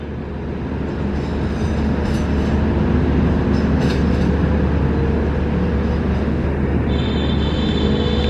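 Taksaka passenger train rolling out of a station, a steady loud rumble of wheels and carriages with faint rail squeal and clatter, no voices.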